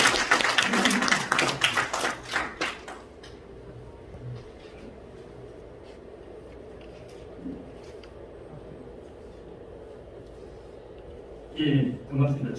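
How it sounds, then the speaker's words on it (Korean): An audience at a forum gives a few seconds of crowd clapping, which fades into a quiet room. A short patter of claps returns near the end. "박수로 환영해 주세요."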